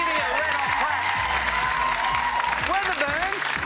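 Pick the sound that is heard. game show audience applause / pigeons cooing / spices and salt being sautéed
game show audience applause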